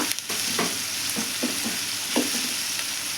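Tomato pieces fry in a pan for a ridge gourd and moong dal curry, with a soft, steady sizzle broken by several light scrapes of a spoon stirring nearby.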